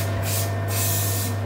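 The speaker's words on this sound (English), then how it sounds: "Spray the tin." A steady cooking-spray aerosol hiss sprays in short bursts onto a tart tin, close to the microphone, over a constant low hum.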